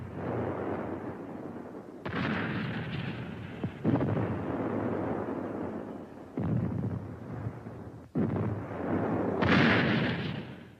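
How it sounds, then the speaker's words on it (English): Navy ships fire their 8- and 16-inch guns in a series of heavy, booming blasts, about five deep thuds each followed by a rolling rumble, spaced a couple of seconds apart. "The Navy ships with their 8 and 16-inch guns are able to fire up to 23 miles inland."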